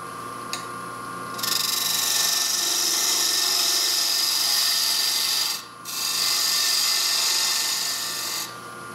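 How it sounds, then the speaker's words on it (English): A point tool cuts a tenon on a wooden workpiece spinning on a lathe, making a loud, steady high scraping hiss that runs for several seconds, breaks off briefly, then resumes and stops. "we're going to establish a tenon on this. And I'm going to take my point tool."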